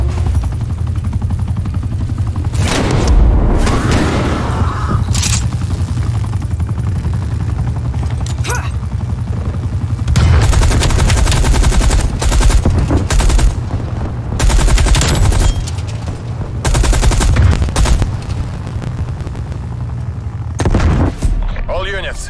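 Heavy gunfire and booming explosions from Call of Duty: Black Ops Cold War multiplayer matches on the Crossroads Strike and Armada maps, loud and nearly continuous, with dense bursts and blasts layered over game voices.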